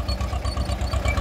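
Escort 335 tractor engine idling steadily up close, a loud low diesel chug with an even rapid thumping rhythm and a faint mechanical rattle on top, no voices.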